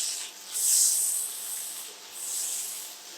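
Fried glass noodles are stirred and tossed in a pan, making a soft, close scraping and sizzling hiss that swells and fades in gentle waves.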